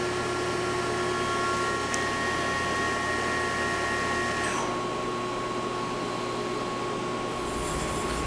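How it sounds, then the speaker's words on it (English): A FANUC Robodrill CNC machining center hums steadily as its axes jog, a continuous mechanical drone whose pitch and whine shift midway, with a brief higher tone near the end. "Jogging the axes around."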